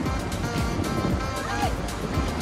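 Strong Pacific Ocean waves surging around a rocky tidal pool, a loud churning wash of surf with wind buffeting the microphone, while people talk over it.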